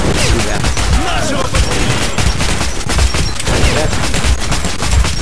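Constant, dense gunfire and blasts, with a grenade explosion, fill a battle in the video game Metro: Last Light, loud and unbroken from start to finish.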